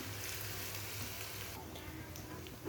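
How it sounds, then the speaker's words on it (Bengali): Ginger-garlic paste frying in hot oil in a home kitchen, a soft, steady sizzle and hiss that runs unbroken and fairly quiet throughout. "আদা রসুনের পেস্ট দিয়ে দিব, দিয়ে কিন্তু আবারও একটু ভেজে নিতে হবে"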